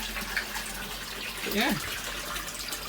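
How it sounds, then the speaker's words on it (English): Water flows through a DIY pond bottom drain and Tempest filter, a soft continuous trickling wash running in the background while someone speaks briefly over it. "And out comes the water."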